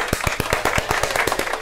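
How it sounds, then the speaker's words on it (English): A quick round of applause from a small group, a dozen or so sharp, evenly spaced claps close by and fairly loud, with no speech over them. "Give yourself a round of applause, Alan."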